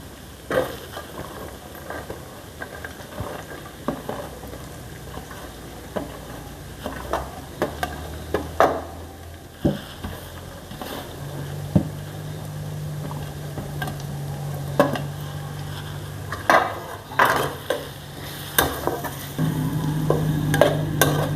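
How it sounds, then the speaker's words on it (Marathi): Onion chutney with chopped onion is stirred in a hot pan: irregular scraping and clinking strokes come close and clear over a faint sizzle, growing busier toward the end, with no talking. "व्यवस्थित अशी चटणी हलवून घ्यायची कांद्याची"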